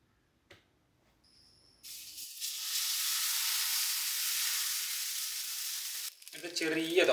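A small thattu dosa sizzles loudly and steadily on a hot pan, a broad continuous hiss lasting several seconds before fading as a voice begins speaking.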